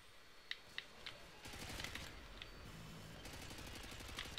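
Gunfire from Call of Duty Modern Warfare 2 comes faint and rapid, a few single shots and then sustained bursts of automatic fire with clicking mechanical detail.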